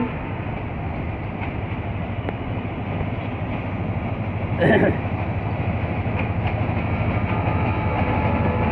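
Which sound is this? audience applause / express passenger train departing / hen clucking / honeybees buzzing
express passenger train departing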